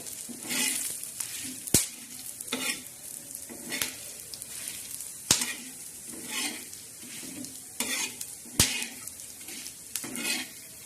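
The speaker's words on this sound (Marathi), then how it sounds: "आपण हा मसाला भाजून घेणार आहोत" Masala roasting in a pan, steady sizzling broken by a spoon scraping and stirring in regular strokes about every second, with sharp clinks against the pan, close and with no talking.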